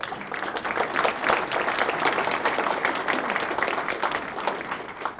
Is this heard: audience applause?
yes